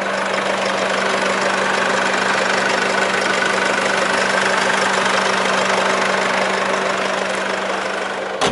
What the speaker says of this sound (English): Let's pop the bonnet while the engine's still running.